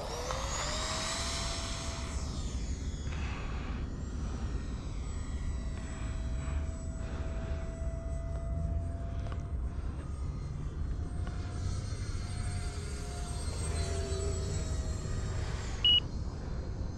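An E-flite Habu SS 50mm electric ducted-fan RC jet flies during landing practice, its steady whine sweeping in pitch as it passes at moderate distance, continuous over outdoor background noise for the whole stretch.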